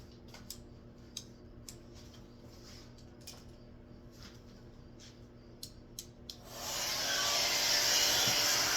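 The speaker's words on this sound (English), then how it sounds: "Okay, now I'm going to get the hair dryer." Light ticks and clicks sound for a few seconds, then a hair dryer switches on and blows with a loud, steady rushing whoosh nearby.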